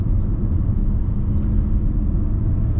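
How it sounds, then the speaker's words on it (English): Road noise inside a 2022 Honda HR-V petrol at about 60 km/h: a steady, dense low rumble with a soft tire hiss, constant and unbroken the whole way through, with no talking. "If you have a listen to the road noise, it's actually pretty good in here, pretty decent sound deadening."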